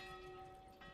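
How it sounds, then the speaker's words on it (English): Church bell ringing in the medieval city-building game Manor Lords, a steady sustained toll with bright ringing overtones that holds at an even, fairly loud level throughout. "Can you shush the church bell, please?"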